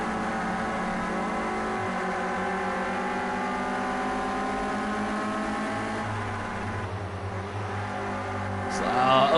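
Renault Clio Cup race cars lapping the Zolder track in Project Cars 2, several engines droning and whining together in layered steady tones, with one revving higher near the end.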